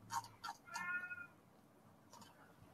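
A house cat meows three times in quick succession near the microphone, then gives a fainter fourth call after a pause, with a quiet room behind and no talk.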